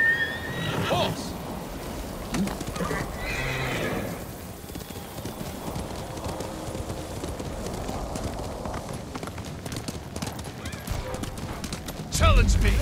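Horse clip-clops and whinnies in the Ghost of Tsushima video game, with steady galloping hooves running under game audio and some speech, ending in a louder burst of sound.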